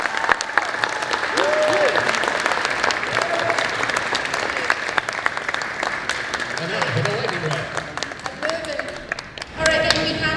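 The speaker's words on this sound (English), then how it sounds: "let's have a round of applause first for this first one" A panel audience at SoCal Game Expo gives sustained, dense applause for Marvel Rivals cast members. The clapping runs loud and steady for about ten seconds, with scattered voices and a short louder swell at the end.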